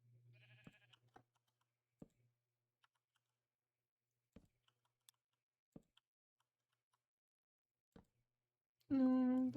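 Sheep bleat once, loud and close, at the very end of a Minecraft-style survival game stretch, after sparse keyboard clicks and faint game noises.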